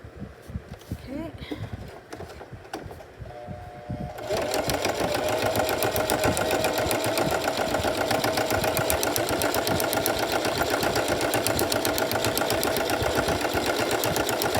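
A sewing machine stitches junk journal pages, first a few short halting bursts under a spoken voice, then a steady fast whirring run of needle strokes continuing loud and close to the end.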